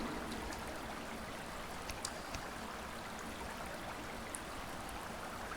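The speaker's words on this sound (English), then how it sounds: "I like that quiet dripping water sound too." Faint, steady trickling water drips in a quiet cave in the survival game Subsistence, with a few soft distinct drops over a hushed background.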